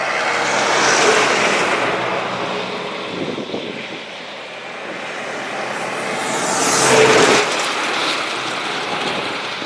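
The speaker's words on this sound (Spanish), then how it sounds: "Otro camión." A truck passes on a road in Kazakhstan, a loud broadband rumble that swells as it approaches, fades slightly, then rises again to a second close pass before trailing off, with no talking.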